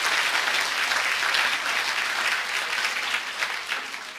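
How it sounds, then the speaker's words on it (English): Sustained audience applause at a language-teaching conference talk in Greece, a dense, even wash of many hands clapping that holds steady and eases off slightly toward the end, with no voices. "Round of applause, please."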